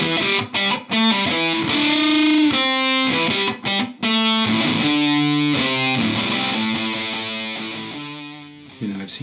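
An electric guitar played through a Soundblox Pro Classic Distortion pedal rings out with heavily distorted sustained chords and short breaks between phrases, ending in a long decaying note.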